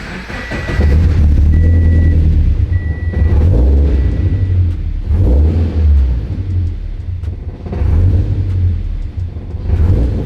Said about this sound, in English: Let's turn it on, start the car, make sure she works.